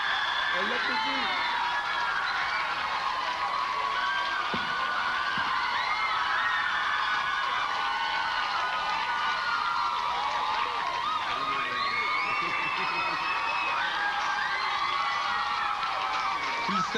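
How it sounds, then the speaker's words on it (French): Award winner Louis-José Houde is greeted at a comedy gala by a loud, sustained crowd roar of cheering, whooping and clapping that fills the room throughout. "On l'applaudit."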